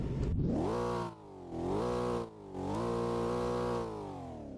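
A Ford Mustang GT engine revs three times in a row, each burst climbing to a steady roaring hold before dropping briefly back toward idle, loud and close with no talking.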